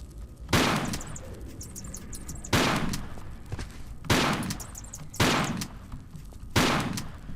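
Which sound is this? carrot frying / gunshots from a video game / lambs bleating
gunshots from a video game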